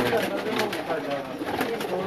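Pigeons coo in soft, low rolling calls at a racing-pigeon loft, a steady layered murmur from several birds close by, with someone talking over them throughout.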